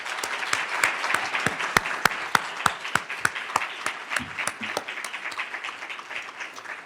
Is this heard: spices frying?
no